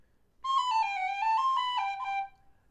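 A D tin whistle plays a short phrase of The Rakes of Mallow, a bright, breathy melody of quick connected notes lasting about two seconds, clear and alone against near silence.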